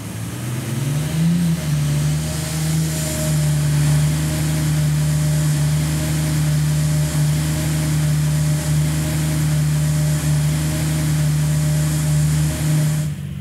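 A car engine is held under load at steady revs during boost control setup with an eBoost3 controller, a loud continuous drone with a strong steady hum and no voices.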